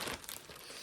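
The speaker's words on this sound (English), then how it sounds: "this plastic bag" Plastic bag that once held a bulk fabric order, crinkling briefly and close by, with a soft rustle that fades after the first moment.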